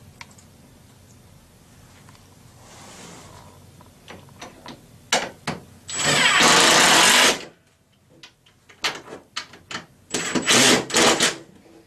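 Screws being driven tight during assembly of a Forevermark base cabinet, with scattered clicks and ratcheting, then two loud sustained bursts of a powered screwdriver whirring, close by.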